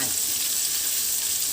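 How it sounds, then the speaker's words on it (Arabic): Pieces of floured tilapia fish frying in hot oil, a dense continuous bubbling hiss up close with no pauses. "واحط كده اهو في الزيت واحده واحده، عشان ما تلزقش في بعضها"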